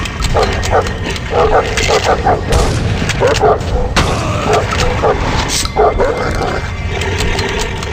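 Gunfire in the horror video game The Suffering, with several sharp booming shots scattered among loud game noise and growling creature sounds, plus voices at moments.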